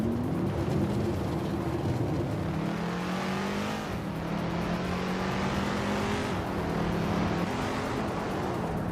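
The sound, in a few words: racing cars in a video game, 1969 Dodge Charger Hemi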